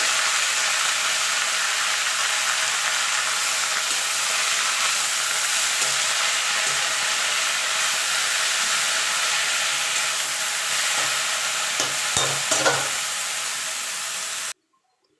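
Bathua greens frying with garlic in a hot pan, a loud continuous sizzle and hiss close up with a few stirring scrapes near the end before it cuts off.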